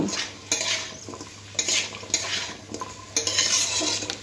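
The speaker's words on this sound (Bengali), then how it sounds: "এবার সব কিছু খুব ভালো করে আর একবার মিশিয়ে নেব।" Chicken, fried egg and fried rice being stirred in a pan for Chinese mixed fried rice, with repeated scraping and clinking strokes of a utensil against metal over a low steady sizzle, close and fairly loud.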